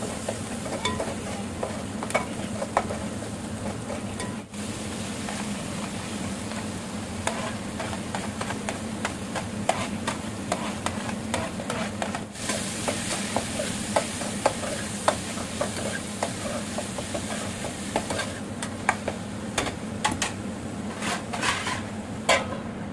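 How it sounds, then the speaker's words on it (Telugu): Chopped ivy gourd (dondakaya) fries in a pan with a constant close sizzle. Repeated stirring scrapes and clinks of a spatula against the pan run through it, with no talking. "నేనైతే దొండకాయ ఫ్రై చేస్తున్నాను"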